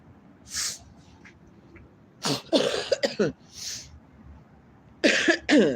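Several chesty coughs, some single and some in quick clusters, sound close and moderately loud amid quiet breathing and background hiss.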